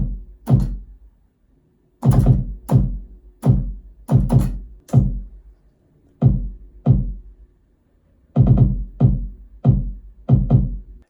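Punchy kick drum pattern from an electronic music production, deep thudding hits in short syncopated groups with brief silences between, heard alone and close.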